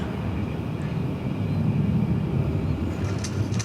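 A Sun Country Boeing 737-800, thirteen years old, at DFW Airport bound for Cancun, gives a steady, continuous jet engine rumble, heavy in the low end and fairly close, holding level throughout without voices.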